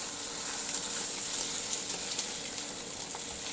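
Eggs frying in a pan, a steady close sizzle that hisses continuously with no talking.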